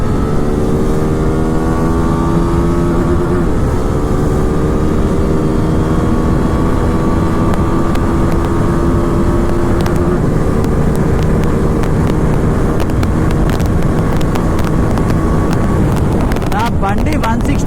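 A motorcycle engine at high speed, around 160 km/h, roars steadily with rising harmonic tones and heavy wind rush throughout, loud and close, with a rider's voice over it.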